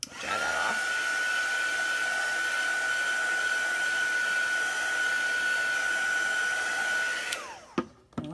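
A hair dryer runs steadily at close range, drying chalk paste on a craft piece, with a constant whine for about seven seconds before it winds down and clicks off.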